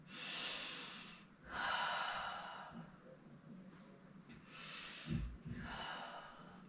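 Slow breathing during a floor Pilates stretch on a mat, with long airy inhales and exhales alternating across the clip at close range, plus a brief soft nasal puff near the end, and no talking.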